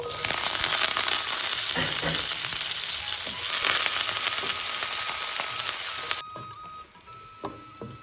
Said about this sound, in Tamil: இதை லைட்டாக வதக்கிட்டு வெங்காயம் கருவேப்பிலையும் இதோடு சேர்த்துடலாம்